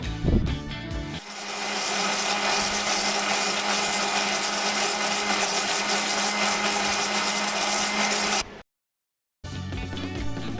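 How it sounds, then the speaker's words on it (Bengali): A large blender jug whirs loudly and steadily as it blends semolina with water into a batter, running for several seconds before cutting off abruptly, then a brief restart of sound after a short silence. "আমি একসাথে সম্পূর্ণ পানি দিয়ে ব্লেন্ড করে নিব, সেজন্য বড় ব্লেন্ডার জগে নিয়ে নিলাম।"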